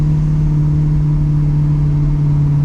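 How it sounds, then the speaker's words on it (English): A Pontiac Firebird's freshly swapped engine runs steadily at raised revs, a loud, close, continuous mechanical drone with a strong low hum and no voices over it. "The engine sounds great."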